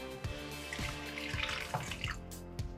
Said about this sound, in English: Then I'm gonna add some hot water, boiling water in there to make it a little bit creamy